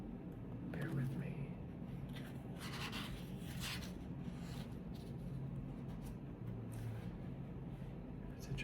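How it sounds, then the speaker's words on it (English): Book pages turn with soft papery rustles and rubs up close, faint and intimate, over a low steady background hum. "I kind of want to do some page turning sounds,"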